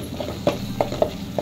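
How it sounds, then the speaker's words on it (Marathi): A spatula scrapes and stirs onion-coconut paste with black peas in a hot pan for a Malvani-style curry, giving a handful of evenly spaced scraping taps over a faint background sizzle. "कांद्या खोबऱ्याचं जे वाटण तयार केलेलं आहे तेही छान परतून घ्यायचं"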